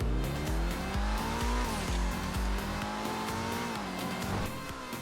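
A car engine in a Kortz Center DLC racing game, loud and close throughout, revving in repeated rising gear-shift sweeps with some tire squeal and no talk.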